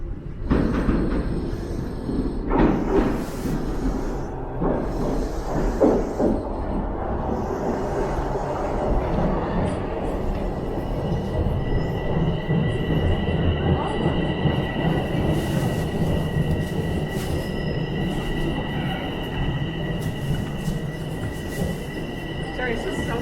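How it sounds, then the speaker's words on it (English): Southbound subway train on rails in Toronto, a steady rumbling roar with wheel squeal and a high whine throughout, loud and close, with people talking over it. "The train right now"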